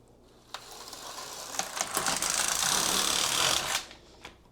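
A knitting machine carriage sliding back across the needles while knitting a sweater, a close rattling mechanical whir that builds for a few seconds and then stops, with a couple of sharp clicks around it.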